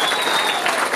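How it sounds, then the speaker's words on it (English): An audience at a charity benefit show applauds in a brief, dense burst of steady clapping with a faint tone running through it. "Give Lynn Harmison a round of applause"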